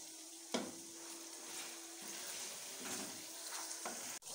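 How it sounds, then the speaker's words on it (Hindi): Ginger-garlic paste frying and being stirred in a pan for a meat and pea curry, a steady sizzle with a few louder scrapes of the spoon, no talking. "अभी मैं इसमें ऐड कर रहा हूँ 3 टेबल स्पून अदरक और लहसुन का पेस्ट और इसको भी अभी 1-2 मिनट तक इसको थोड़ा सा पकाना है"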